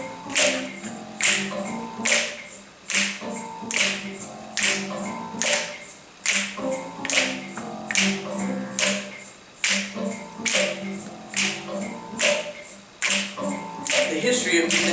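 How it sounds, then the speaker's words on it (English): An audience snaps fingers together in a steady, even rhythm of sharp clicks, repeating about once a second, with a voice talking over it. "what I need for you to do is snap your fingers with me."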